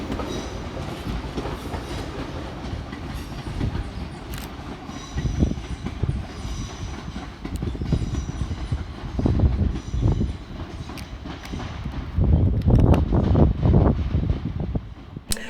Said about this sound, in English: Next train out to depart is 350-372, working the 1432 London Northwestern Railway service from Birmingham New Street through to Liverpool Lime